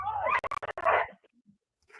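A dog whines and whimpers up close in an outdoor setting, a rising, cry-like sound broken by quick clicks and yips, then fading to faint small noises.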